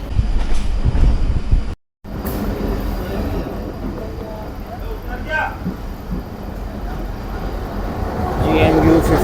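Shah Latif Express passenger train pulling into the Tando Jam platform in Pakistan, a loud steady rail rumble with clattering and faint wheel squeal, briefly cut near the start, with voices faintly underneath.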